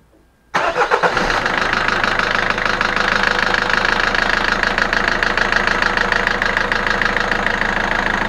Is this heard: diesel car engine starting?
yes